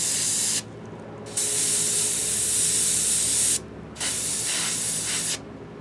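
An airbrush sprays skin-tone paint onto a Reaper hill giant miniature, a close, steady hiss in two long bursts separated by short pauses, with no talking.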